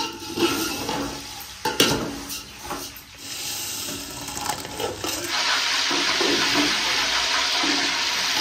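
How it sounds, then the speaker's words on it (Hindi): Spices dropped into hot ghee for a large rice dish, a burst of sizzling and crackling that settles into a steady loud frying hiss, with some clatter of utensils before it. "घी गर्म हो गया, मिसाले डालो।"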